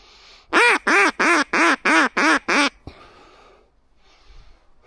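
A duck quacks seven times in a quick, even series, loud and close, then falls quiet to soft outdoor background noise.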